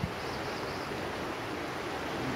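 A river flowing near a bridge, with cold water rushing in a constant broadband hiss, steady and fairly close, with no voices over it.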